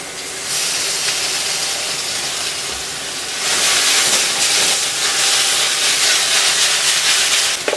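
Otafuku okonomi sauce hits a pan of frying yakisoba with cabbage, giving a loud, steady hissing sizzle that swells midway and holds with no talk.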